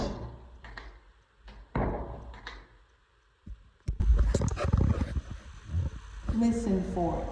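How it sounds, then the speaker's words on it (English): Several loose knocks and rattling thumps of a half bathroom door that won't latch in a newly built house, followed by louder banging and clatter with a person talking over it. "The guest half bath door does not latch"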